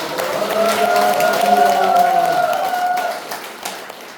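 Church seminar audience applauding, a sustained wash of clapping from a crowd with some sung or voiced tones mixed in before it tapers off.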